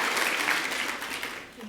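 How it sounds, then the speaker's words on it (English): Audience applause at a medical association keynote meeting, steady broadband clapping from a crowd filling the whole moment, fading slightly toward the end. "yes, you can go ahead and give him applause."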